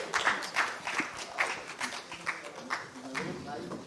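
A live audience at IIC claps for Naved in a loose, rhythmic patter of moderate loudness, with voices mixed in.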